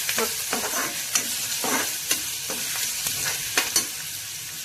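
Onion frying in a pan until crisp, a steady sizzle with repeated scraping stirs of a spatula at an irregular rhythm, close and clear.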